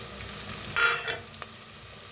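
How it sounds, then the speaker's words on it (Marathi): Ground garlic, green chili and peanuts fried and stirred in a pan, a soft sizzle with a brief louder hiss and a few stirring scrapes, close and without talk. "आता लसूण मिरची शेंगदाणा बारीक करून घेतलं होतं बघा, ते बी भाजून घेऊया"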